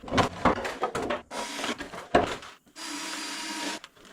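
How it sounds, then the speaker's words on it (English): A power drill bores a hole in the side of a trash rack built for a small hydroelectric pond, running in several short bursts followed by one longer steady whine, loud and close. "drill a hole on this side so that as the water wants to go in, the air has a place to get out"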